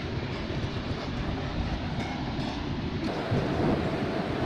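An express train in Indian Train Simulator (MSTS), hauled by a WAP4 locomotive, gives a continuous low rumbling roar of wheels and motors that swells louder partway through, with no talk.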